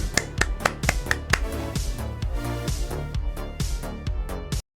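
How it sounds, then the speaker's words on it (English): Hands clap in a quick, uneven series of sharp, close claps, some bursts faster than others, alone without talk, stopping abruptly at the end. "Everybody clap for Shoe."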